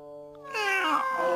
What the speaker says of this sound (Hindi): अरे ये बिल्ली यहाँ पर कब आ गई?